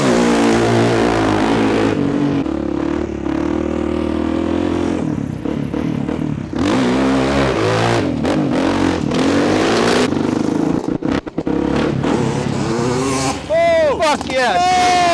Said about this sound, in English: CR 500 versus XR 400 drag race in the parking lot